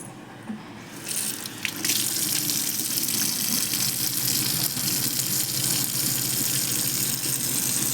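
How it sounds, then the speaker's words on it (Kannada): Tap water runs steadily into a sink while a face is rinsed, a continuous close splashing stream that starts after a brief quiet moment and carries on alone. "ನಾನು ನೀರೆಲ್ಲ ಹಾಕಿ ತೊಳ್ಕೊತೀನಿ"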